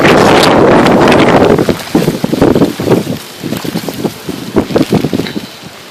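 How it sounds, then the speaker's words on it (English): Strong wind gusts buffet the microphone outdoors beside surging floodwater, a loud roaring blast at first that breaks into choppy, fluttering bursts of wind noise. "We got another wind gust coming"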